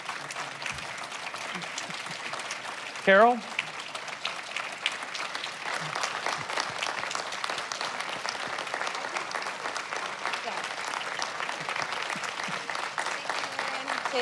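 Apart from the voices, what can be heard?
audience applause for panelists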